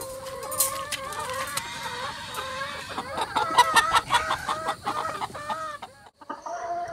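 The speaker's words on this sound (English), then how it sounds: "I'm going to take these chickens and put them in their new enclosure." Several chickens cluck and squawk close by, a busy overlapping chatter that rises in the middle and then thins out.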